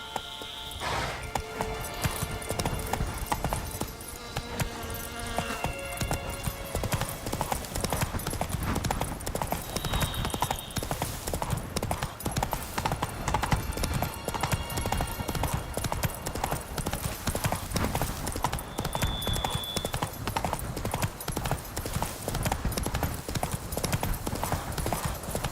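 Horse hooves trot in a steady, fast clip-clop rhythm throughout a Witcher 3 game scene, moderately loud with game ambience and occasional voices.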